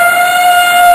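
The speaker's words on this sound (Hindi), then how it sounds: "हाँ, ये तो हाथी राजा की आवाज है।" An elephant trumpets in one steady, piercing, horn-like blast, loud and close, with no voices.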